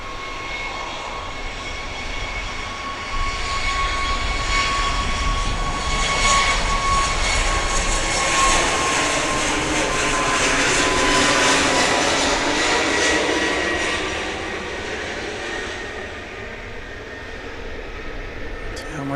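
An airplane at Grand Cayman airport, its aircraft engine roaring steadily and swelling louder mid-clip before easing off, a loud, broad continuous rumble with a whine on top, with speech also present.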